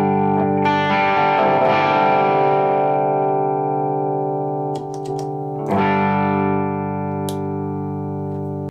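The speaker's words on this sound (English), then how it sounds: "Deco, I will probably use just for that extra tape saturation." Electric guitar played through a tube amp with a Deco pedal adding tape saturation: sustained, warm, slightly distorted chords ring loud and steady, with a fresh strum partway through and faint pick noise.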